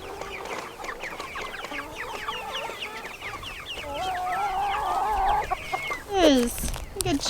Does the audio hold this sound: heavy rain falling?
no